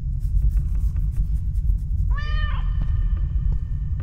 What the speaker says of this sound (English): It's a little kitty.